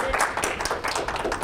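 Audience applause at a Thursday morning coffee talk, a short burst of close, dense clapping that fills the moment while a voice speaks over it.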